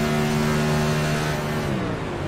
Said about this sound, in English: Watch his revs go right the way down.